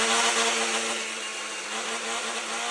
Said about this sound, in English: Snap this into my Ninja blender.